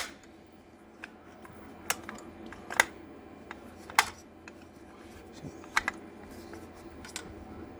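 MGE ratchet reel being worked by hand, giving sparse, sharp mechanical clicks and ticks, some in quick pairs, over a quiet background hum, with no talking.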